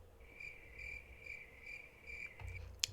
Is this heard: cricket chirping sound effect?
yes